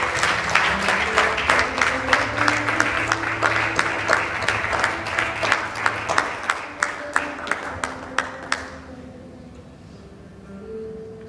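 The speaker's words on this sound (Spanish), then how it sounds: "Denle un aplauso fuerte al Señor." A church congregation applauds with many hands clapping in a steady, dense rhythm that thins into sparse individual claps before fading out near the end.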